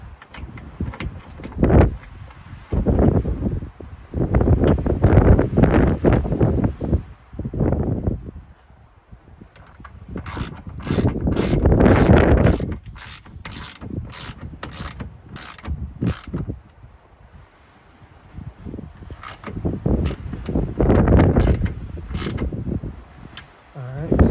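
Hand tools fastening a part of a Retrax Pro XR tonneau cover onto the bed of a 2022 Ford F-350 Tremor, with close mechanical creaks, ratcheting clicks and repeated sharp ticking bursts amid handling noise.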